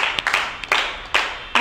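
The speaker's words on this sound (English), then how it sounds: "Give them a big clap." A group of children claps in a classroom during a spelling game, a few uneven, separate clap bursts over soft background noise, fairly close.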